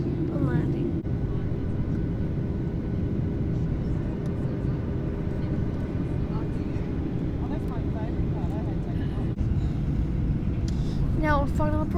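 Qantas Boeing 737-800 airliner on final approach into Sydney, a steady loud engine and cabin drone filling the whole stretch with faint intermittent chirps and clicks above it, and a voice talking over the top.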